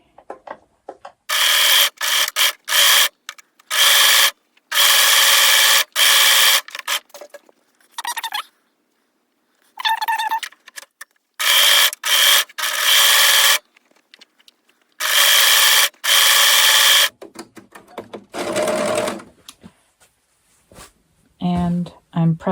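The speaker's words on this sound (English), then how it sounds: "I will be using my serger and should only have to do that once." A serger stitches a seam on kids' shorts in short bursts of rapid, buzzing machine whir, stopping and starting repeatedly with near-silent gaps between runs, close and loud.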